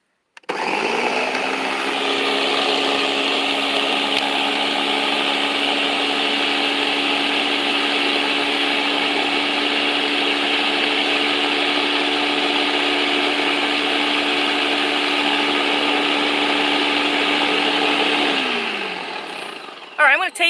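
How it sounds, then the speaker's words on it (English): A kitchen blender whirs loudly and steadily for nearly twenty seconds while making a papaya and key lime drink, then winds down with a falling whine and a few clunks as it stops. "Plug it in my blender."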